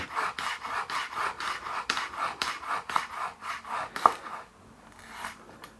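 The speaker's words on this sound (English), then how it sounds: "we're going to use 3 cloves of garlic, and we're going to slice them finely" A knife finely slicing garlic cloves on a wooden board: a steady run of about a dozen quick, crisp rasping cuts, close and fairly loud, with a sharper knock near the end before it trails into quiet.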